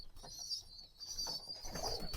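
In a pigeon loft, pigeons feed their chicks, giving soft, faint coos and low murmurs with light rustling in a quiet room.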